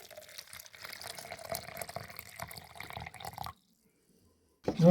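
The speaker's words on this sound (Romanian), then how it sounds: "Vom adăuga circa 300 de ml de apă caldă." Warm water, about 300 ml, is poured into a vessel holding 25 grams of fresh yeast, a steady close trickle for several seconds that stops abruptly, followed by a brief louder knock or splash.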